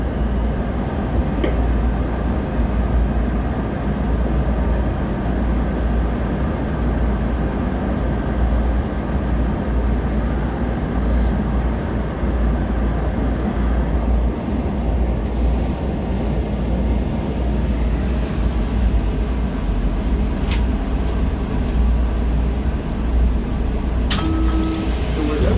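Steady low rumble of a Washington Metro Blue Line subway train in motion, with continuous rolling noise and occasional faint clinks, no clear speech.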